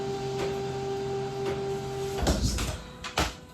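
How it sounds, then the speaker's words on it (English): A home printer runs with a steady mechanical hum for about two seconds, then stops and gives a few hollow clunks as the paper feed moves. "My printer is going off right now."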